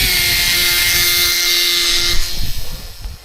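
A small WLtoys Cessna F949S radio-controlled plane's electric motor whines steadily and fairly loud, with a faint tonal hum, then the sound breaks up and fades as wind noise takes over near the end.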